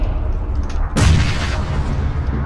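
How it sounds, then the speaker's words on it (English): A grenade blows up in an online shooter match, a sudden loud boom that rolls into a long rumbling tail over steady game noise. "Shit, grenade."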